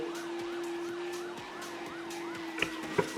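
A police car siren in the racing game Asphalt 9 Legends wails up and down steadily at moderate volume beneath a continuous engine hum, with a couple of brief sharp clicks near the end.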